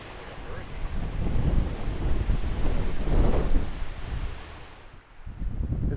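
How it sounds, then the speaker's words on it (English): Strong gusts of wind batter the microphone on open ground in South Dakota, a loud rumbling roar that surges and swells, briefly drops, then picks up again. "That feels like a 50-mile-an-hour gust right there."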